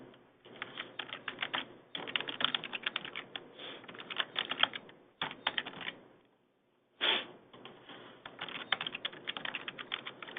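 Keystrokes on a computer keyboard as an email and password are typed, a steady run of close, crisp clicks in bursts with short pauses and one near-silent gap.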